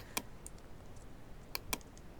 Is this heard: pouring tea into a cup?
no